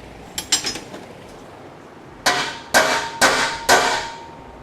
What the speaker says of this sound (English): We'll use a center punch to get a nice area there for us to drill in.